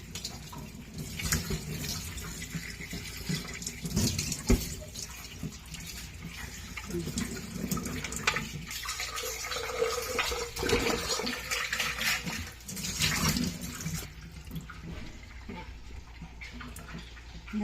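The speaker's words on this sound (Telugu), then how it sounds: "సబ్బు బయట కడిగేస్తున్నాను అంతే." Hot water runs from a tap as soap is rinsed off hands during home ghee-making, giving a close, uneven splashing rush that rises and falls and thins out near the end.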